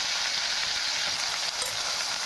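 Green chillies and tomato pieces frying in hot oil for an eggplant and tomato curry, a steady close hiss of sizzling that runs unbroken and fairly loud throughout, with no voices.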